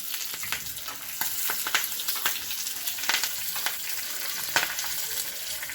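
Dried red chillies and curry leaves fry in hot oil for palak dal, giving a steady close crackling sizzle with sharp pops scattered throughout and no talk.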